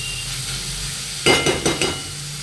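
Tomatoes frying on low gas for a green mung bean usal give a steady soft sizzle, joined midway by a few louder scraping stirs of the pan.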